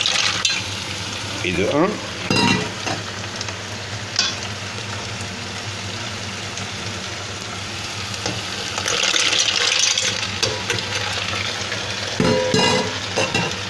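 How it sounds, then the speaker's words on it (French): Mussels tossed over frying fries in a hot pan sizzle steadily while being stirred, with clattering scrapes and a louder hiss midway; a voice speaks briefly. "Et maintenant, on va jeter les moules par au-dessus."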